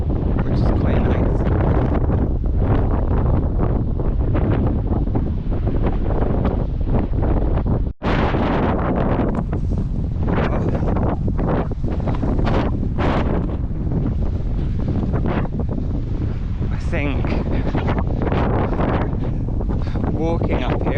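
Strong headwind buffets the microphone on a coastal run near a lighthouse, a loud continuous roaring rumble that never lets up, with a brief dropout partway through.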